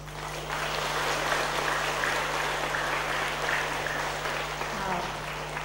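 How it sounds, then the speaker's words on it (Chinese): Audience applause at a Buddhist dharma lecture hall, a steady, even wash of many hands clapping that continues throughout over a low constant hum. "您的掌声就是我们最大的推动力"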